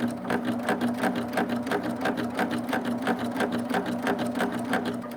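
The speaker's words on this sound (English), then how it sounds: "I'm going to cut the threads so they don't bunch my fabric up, and then I'm going to stitch down" A Baby Lock serger runs steadily through fabric, its fast needle and knife strokes forming a loud, close, even mechanical whir with no talk over it.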